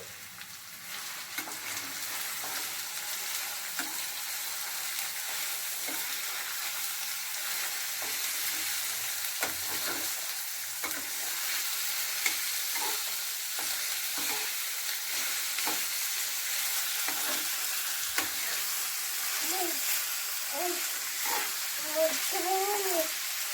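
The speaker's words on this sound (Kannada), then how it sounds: "ಇದನ್ನು ಹಾಕ್ಕೊಳ್ತಾ ಇದ್ದೀನಿ ಮಶ್ರೂಮ್ನ" Sliced mushrooms frying in a pan for a pepper chakna, giving a steady, close sizzle that runs throughout, with occasional soft scrapes and clinks from stirring.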